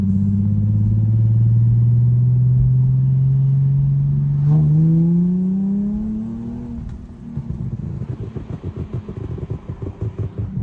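A Nissan 350Z with a freshly replaced differential bushing revs loudly nearby, its engine note climbing steadily before dropping into a choppy, rhythmic exhaust burble that continues at idle.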